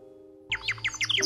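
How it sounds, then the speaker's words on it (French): A short burst of bright, quick chirping nightingale song begins abruptly after a moment of steady tone, several rapid warbled notes in succession. "Les 2 rossignols étaient faits pour chanter ensemble"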